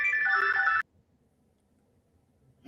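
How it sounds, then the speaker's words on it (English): A phone ringtone sounds at a South Florida drone meetup, a loud melodic electronic tone lasting under a second before cutting off, followed by quiet room background and a faint start of another ring. "Well, that's a phone call."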